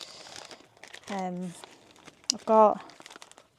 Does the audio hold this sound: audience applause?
no